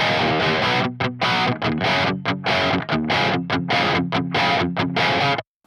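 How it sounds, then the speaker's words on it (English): Electric guitar on a percussive one-string preset, played through an amp plugin adding distortion: loud, choppy rhythmic chugging notes with brief gaps, heard in isolation and ending abruptly. "Just adds a nice level of distortion onto the guitar."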